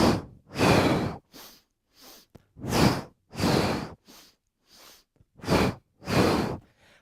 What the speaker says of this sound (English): And then one part exhale, and the second part exhale.